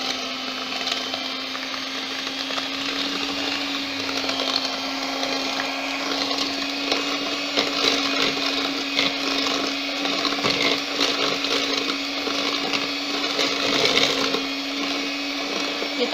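An electric hand mixer whirs steadily on low speed for the whole stretch, beating flour and coconut milk into a putu ayu cake batter, with a constant motor hum and faint rattling of the beaters in the bowl.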